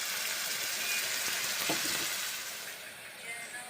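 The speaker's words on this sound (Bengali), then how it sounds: "বেটে নিলাম, 2 মিনিট কষে নিচ্ছি মশলা।" Ground spice paste being fried and stirred in a pan while cooking broad beans, giving a soft, continuous sizzle with faint scraping of stirring, quiet and close, fading slightly toward the end.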